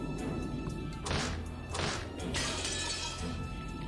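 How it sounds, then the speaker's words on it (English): Glass window smashed with an antique chair in a video game, heard as three loud crashing shatters in quick succession, each with a bright burst of breaking glass over a steady background hum. "The glass smashed with a violent sound, and the frame groaned and creaked."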